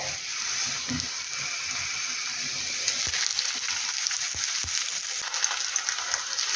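Eggplant slices frying in oil in a pan give a steady close sizzle and crackle that runs throughout, with a few sharp pops near the end and no talking.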